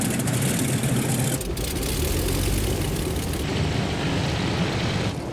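A vintage World War II piston-engine aircraft from the Buffalo Airways fleet runs with a loud, steady rumbling drone that fills the whole stretch without pause.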